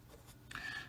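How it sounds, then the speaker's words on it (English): Marker or chalk scratching across a board while working a maths problem on hemisphere surface area: a brief quiet rub starting halfway through, with a faint squeaky streak, close by and alone. "I'm going to go ahead and write down that we're doing hemisphere"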